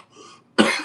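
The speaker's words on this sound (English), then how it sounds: "I keep coughing and stuff," A single harsh cough breaks out close up after a brief breathy sound, loud and abrupt.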